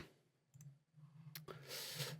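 Mouse clicks in the NestDrop VJ software: a few faint, sharp clicks over a low electrical hum.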